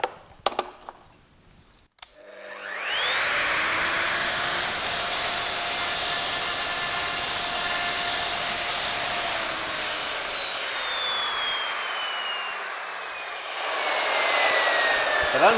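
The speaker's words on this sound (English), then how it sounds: "when using a router table, you feed the wood into the cutter, going against the spin of the blades" A router table cutter spins up to a loud, high-pitched whine and holds it steady as wood is fed by hand. The pitch sags slightly while it cuts, then the whine winds down, with a brief knock before it starts.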